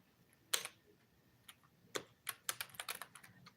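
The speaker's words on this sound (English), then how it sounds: "I'm typing in my hashtags now" Close, quiet keystrokes on a computer keyboard: a lone tap, a pause, then quickening bursts of clicks with no voices.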